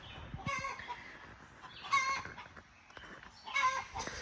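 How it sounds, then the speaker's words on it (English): A hen fussing and clucking while laying an egg, giving three bursts of agitated clucks spaced about 1.5 seconds apart, fairly distant and moderately quiet with no talking. "I got a chicken in there laying an egg. She's fussing about it."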